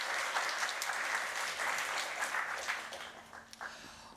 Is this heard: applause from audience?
yes